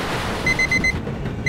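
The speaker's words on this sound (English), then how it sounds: "Oh, that's my alarm!" An alarm clock in a video game rings in a rapid string of short, bright electronic beeps, four in quick succession, then a pause before another begins, loud over a dim background.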